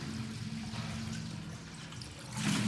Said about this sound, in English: There's water flowing back into the sump.